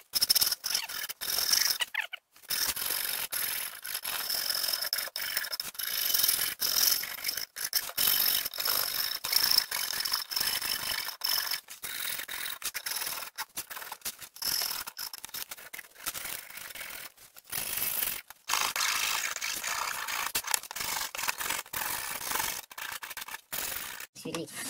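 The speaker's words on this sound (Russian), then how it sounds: "Сейчас уже его можно обрабатывать напильником, не боясь," A wood-concrete birdhouse is worked with a hand file, producing irregular bursts of close, gritty rasping strokes with brief pauses between passes, faint background noise in the gaps.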